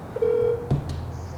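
A telephone keypad sounds a steady dialing tone followed by a brief second beep, close and clear over faint background hiss, with no voices.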